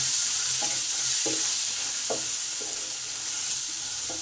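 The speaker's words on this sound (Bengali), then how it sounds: "দু মিনিট কষে নিলাম" Pointed gourd with salt and turmeric sautéing in a pan: a soft continuous sizzle with regular spatula strokes scraping the pan roughly every second.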